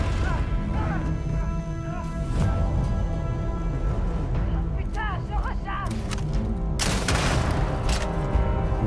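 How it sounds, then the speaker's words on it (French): In the space shooter Starfield, a grenade blast and bursts of gunfire crash through a combat scene, with a loud explosion near the end, while a player talks over the action. "grenade!"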